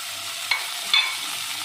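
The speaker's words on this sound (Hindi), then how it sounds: "इसमें इसको थोड़ा सा फ्राई करना है हमने इसको।" Chopped capsicum, onion and green chilies fry in a pan with a soft, even sizzle, broken twice by short scraping stirs of a utensil against the pan. No one speaks.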